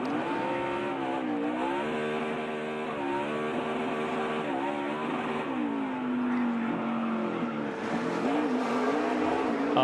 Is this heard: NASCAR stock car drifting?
yes